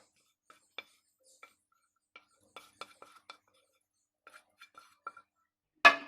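Amla candy mixture is scraped from a pan onto a plate greased with ghee, giving sparse, quiet metal clinks and scrapes spaced out over several seconds, then a louder clatter at the end.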